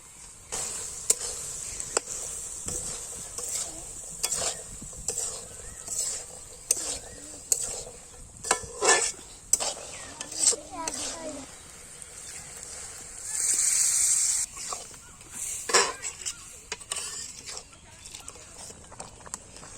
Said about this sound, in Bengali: আমি আলুগুলো কষিয়ে নিয়েছি, এবার মটরগুলো ঢেলে দেবো।